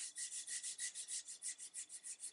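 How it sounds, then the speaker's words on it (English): A Scotch-Brite pad rubbing varnish off a wooden gun stock in quick, even back-and-forth strokes, about six per second, a soft close scratchy hiss with no talk. "All the varnish is coming off."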